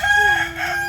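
A chicken crows once, close and loud, in a short clear call on a small farm.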